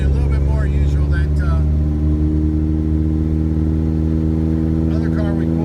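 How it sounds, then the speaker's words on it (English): A 1961 Triumph TR3B climbs a hill in second gear with carburetion slightly off, its engine and exhaust a steady, loud, low droning hum from inside the car, while someone talks over the top. "Wow, that's nice sounding exhaust"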